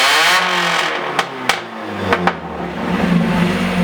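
A Mazda Miata NA with a new aftermarket exhaust revs loudly up close, the engine climbing and falling through several blips with a raspy, buzzing note and no talk.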